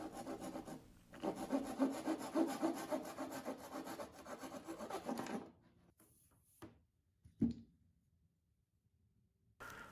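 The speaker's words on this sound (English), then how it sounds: "Then I just cut them with my little trim saw." Small hand trim saw cutting through wooden dowels for toy wheel axles, a burst of steady back-and-forth rasping strokes for several seconds, then quieter handling knocks.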